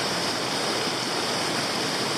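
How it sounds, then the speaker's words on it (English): Regnans Falls in Tasmania, a waterfall cascading in a steady, dense, loud roar of rushing water heard close by without a break. "I might be able to get on the ledge between some of the cascades"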